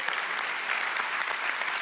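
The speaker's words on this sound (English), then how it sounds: "big round of applause" Keynote audience at a corporate tech conference applauding steadily, a dense, even wash of hand claps that stays at one level without pause.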